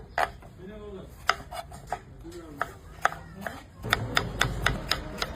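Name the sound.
cutting tomatoes for biryani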